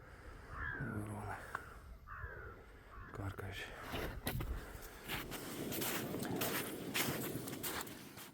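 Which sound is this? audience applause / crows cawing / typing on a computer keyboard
crows cawing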